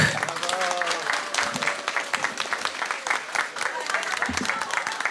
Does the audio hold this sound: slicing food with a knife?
no